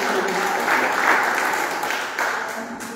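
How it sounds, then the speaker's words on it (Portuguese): A church congregation applauds together, a dense wash of clapping from many hands that swells and holds steady for a few seconds, with a faint murmur of voices beneath. "Quem crê, dá uma salva de palmas para Jesus."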